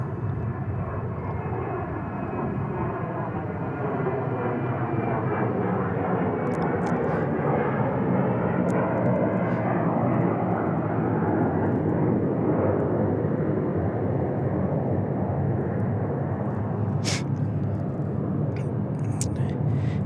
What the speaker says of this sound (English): This is not an F-16, but is a corporate jet.